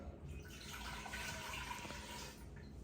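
Water runs steadily into a saucepan while pickle brine is being made, a soft continuous splashing pour lasting nearly three seconds before easing off.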